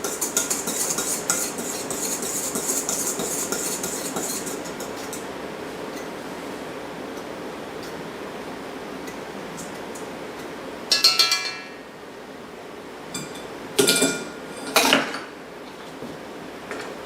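Dry sugar, salt and baking powder being stirred together in a bowl, a steady soft scraping and clinking of utensil against the bowl, followed by a few sharper knocks near the end.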